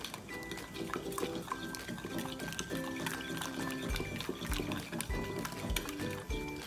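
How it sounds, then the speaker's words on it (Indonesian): Five eggs stirred together with dried shrimp in a bowl, wet sloshing and rhythmic spoon strokes with soft knocks, beneath a faint background hum. "Ini kita aduk aja langsung, aduk rata sampai ebinya bercampur sama telurnya ya."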